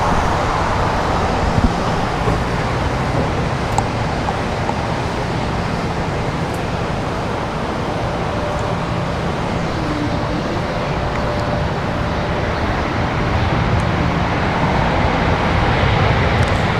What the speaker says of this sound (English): Breeze Airways touching down here.